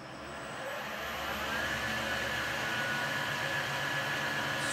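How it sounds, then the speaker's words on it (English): A Marathon E470 motor driven by a Hitachi WJ200 VFD on a Precision Matthews machine runs in reverse with a steady, even whirring hum that swells slightly at the start and then holds, with a faint high whine. "You can see the motor is running."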